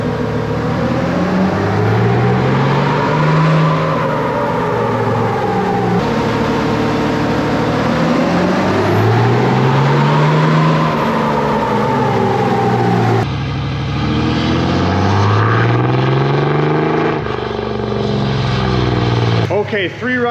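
A Cummins diesel truck engine revs hard on a chassis dyno during a stock-horsepower pull, a loud sustained drone that rises and falls in pitch through repeated gear-limited sweeps, with a sharp drop near the end.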